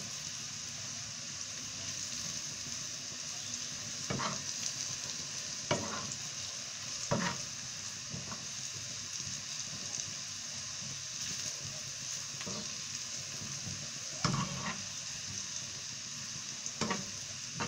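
Fish and onion frying in a pan with a steady, close sizzle that runs throughout, broken by occasional stirring clinks and scrapes, with no talk.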